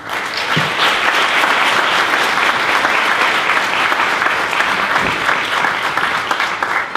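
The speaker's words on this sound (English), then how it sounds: "Let's give him another round of applause" An award ceremony audience applauds an honoree, loud dense clapping sustained throughout from a large crowd, steady with no voices on top.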